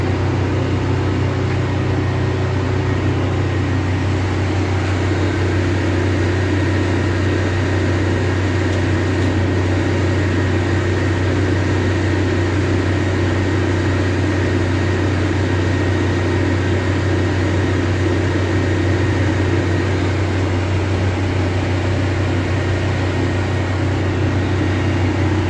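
A Kubota 7000-watt diesel generator runs under load while powering a heater, a constant loud engine hum with a low steady drone and a broad hiss that continues unchanged throughout, with no talking.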